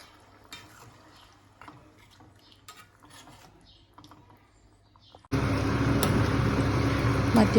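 Chicken curry is stirred in a pot with scattered clinks and scrapes of a spoon, followed by a sudden louder, continuous bubbling sizzle for the last couple of seconds.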